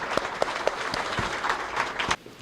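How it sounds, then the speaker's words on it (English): Audience applause for the children attending a WWII roundtable talk, a steady wash of many hands clapping for about two seconds before stopping abruptly, with sharp individual claps standing out near the front. "I'd like you to give them a round of applause too, all the kids that have come"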